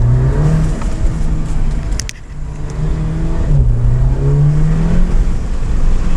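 A VW Golf R with a new air intake revving from inside the car: loud engine roar rising and falling with throttle, a turbo-spool whine over it, a brief dip when the gas is released, then climbing again.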